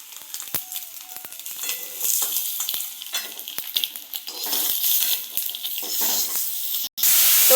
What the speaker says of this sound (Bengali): আমাদের ডিম ভাজা হয়ে গিয়েছে। এবার আমরা ডিমগুলি তুলে নিচ্ছি।